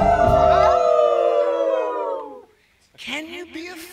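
A human voice imitates a wolf howl, a long wavering tonal cry that slides downward and fades, followed by a second shorter rising howl.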